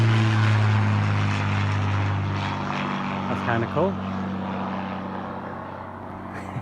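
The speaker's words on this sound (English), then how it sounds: "Not every day an old style plane goes over." An old-style propeller aeroplane passes overhead, its steady engine drone strong at first and slowly fading as it moves away, with someone briefly talking over it outdoors.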